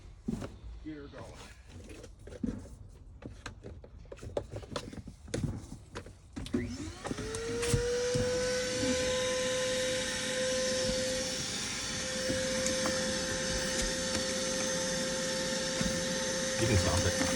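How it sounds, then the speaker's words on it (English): An old vacuum cleaner starts up during a clean-out of a 1965 Ford Falcon, giving a steady loud whine with a sustained tone that runs to the end, after clattering handling noises and voices talking. "Now I'm about to fire up the old vacuum cleaner and"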